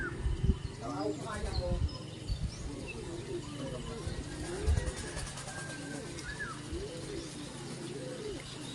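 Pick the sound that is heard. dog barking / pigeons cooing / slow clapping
pigeons cooing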